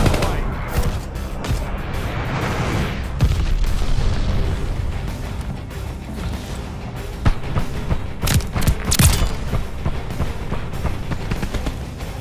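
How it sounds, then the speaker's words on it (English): Loud, close airstrike explosions boom in the Call of Duty Vanguard video game, with repeated heavy blasts and crackling gunfire rolling through the scene and no talk. "Friendly sending an airstrike."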